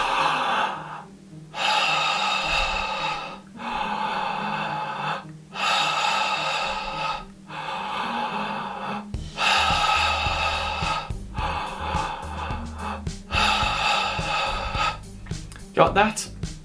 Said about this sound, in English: I may breathe through my mouth